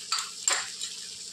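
A spoon scrapes twice through spices in a metal cooking pot, with red chilli powder, onion-garlic masala, homemade masala, coriander powder and a pinch of asafoetida, over a faint sizzle as they are mixed.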